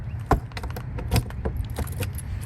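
A single key for every hatch on a Toyota Camroad motorhome jangles close by in a series of bright metallic clinks and rattles.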